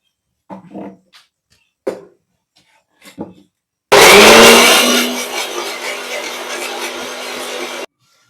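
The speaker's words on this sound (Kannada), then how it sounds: "ಸೊ ಇದನ್ನೀಗ ಮಿಕ್ಸಿಗೆ ಹಾಕೊಂಬರೋಣ" After a few short scraping knocks, a mixer grinder grinding spices with curry leaves bursts on loudly and whirs steadily for about four seconds before cutting off.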